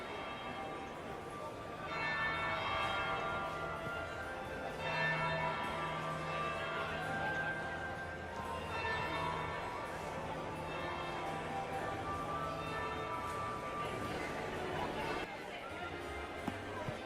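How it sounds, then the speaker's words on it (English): Church bells toll in slow, repeated strikes inside the fantasy game Dragon Age: Inquisition, ringing out steadily over a murmuring crowd and scattered voices throughout. "That would be the second bell."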